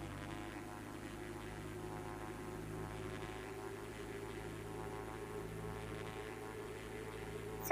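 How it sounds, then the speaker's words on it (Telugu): A helicopter in a video game gives a steady, unbroken engine drone, loud and even with a low humming tone throughout and no voices. "మన హెలికాప్టర్ అయితే పైకి కిందికి నీళ్ళలంగా పైనుంచి అట్లా ఇట్లా అయితే వెళ్ళిపోతుంది"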